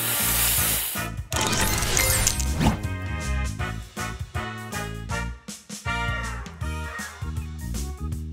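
In the Match Masters puzzle game, a booster spray effect fires with a bright hissing burst and crashing impacts, set against upbeat game music and chiming tones.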